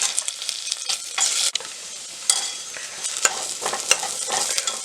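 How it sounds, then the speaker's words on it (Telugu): Ginger garlic paste frying in a pan with onion and cumin gives a steady close sizzle, broken by sharp scraping strokes of a spoon stirring the mixture, with no voices. "1 స్పూన్ అల్లం వెల్లుల్లి పేస్ట్ వేసుకొని ఫ్రై చేసుకోవాలి"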